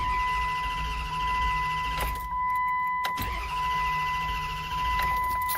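A Dodge Durango's engine cranks without catching, the starter churning steadily in two long bursts with a brief pause between, loud and close inside the vehicle.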